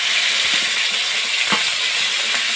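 Onion paste frying in oil in a pan, a steady broadband sizzle running throughout with a few faint stirring clinks, close and even in level, no voices.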